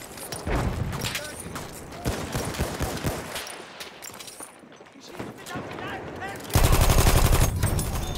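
Rapid gunfire from a light machine gun in the Battlefield shooter game, bursts crackling through a busy, loud firefight with voices talking over the shots and a heavy sustained volley near the end.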